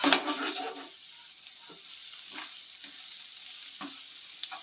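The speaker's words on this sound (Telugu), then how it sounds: "చూడు ఫ్రై అయిపోతుంది." Pesarattu curry ingredients frying in a pan, a soft sizzle with a brief burst of stirring at the start, then quiet frying punctuated by a few light scrapes of a spatula.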